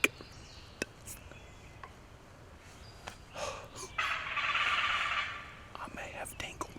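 Wild turkeys gobble during a spring hunt, a faint distant gobble rising out of quiet woods amid scattered clicks and small rustles, with soft whispering nearby.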